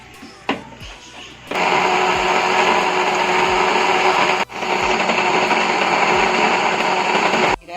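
An electric grinder pulverising garlic cloves runs in a loud, steady whirr after a few clicks, cuts out for a split second and restarts, then stops abruptly.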